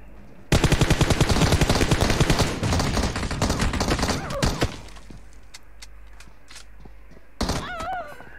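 Rapid automatic gunfire from PUBG Mobile rattles in a long loud burst for about four seconds, then tails off into a few scattered shots and thuds before one final short volley.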